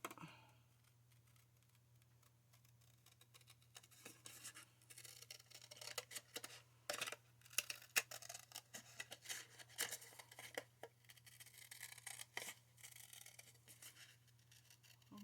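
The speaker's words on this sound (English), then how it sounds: "And then we'll just cut this one out." Scissors cut out a paper file folder, with quiet irregular snips and rustles close by against a faint steady hum.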